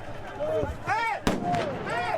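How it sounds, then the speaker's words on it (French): A police crowd-dispersal hand grenade thrown upward bursts in one sharp, loud blast near the middle, set amid a noisy street crowd with voices and whistling calls before and after. "on voit directement un policier lancer une grenade de désencerclement vers le haut."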